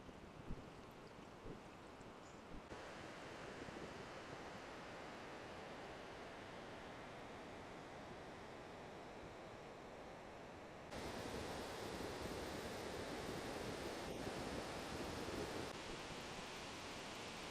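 Water pours continuously at Goddachinnamalki waterfall near Gokak, a steady broadband rush heard faintly from a distance, growing slightly louder near the end, with no talking.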